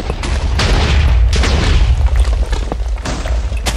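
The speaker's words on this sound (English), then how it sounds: "they put TNT in the diamond so that way the TNT cannons will blow it up more easily." TNT cannons fire in a Minecraft-style game, with loud, dense booming blasts that repeat in quick bursts over a constant low rumble and no pauses between them.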